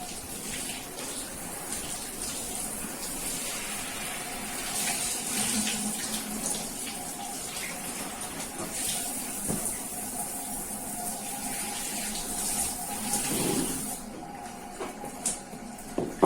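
A bathroom tap runs in a steady, loud rush of water while a motorcycle seat is washed, then the flow cuts off near the end, leaving a few small knocks.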